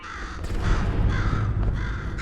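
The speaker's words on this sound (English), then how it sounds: "Could you, murder this bird for me?" A crow caws repeatedly in the video game Portal 2, harsh raspy calls riding over a loud, rumbling game background with no speech.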